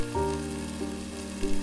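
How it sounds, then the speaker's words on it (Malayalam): Chopped green chillies hit hot oil with popping mustard seeds for a chilli pickle, giving a close, steady, crackling sizzle with no voices. "കടുക് പൊട്ടി വരുമ്പോൾ അരിഞ്ഞു വച്ചിരിക്കുന്ന പച്ചമുളക് ചേർത്ത് നന്നായി ഒന്ന് ഇളക്കുക"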